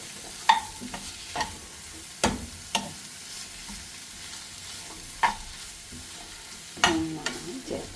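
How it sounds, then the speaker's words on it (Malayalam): Curry leaves and green chillies stirred in a frying pan for stuffed shrimp balls, with scraping spoon strokes at irregular intervals over a soft oil sizzle, close and moderately loud, no talking. "കുറച്ച് കറിവേപ്പില ഇട്ടിട്ടുണ്ട്, പച്ചമുളക് ഇട്ട് കൊടുക്കാം. നന്നായി ചേർത്ത് കൊടുക്കാം."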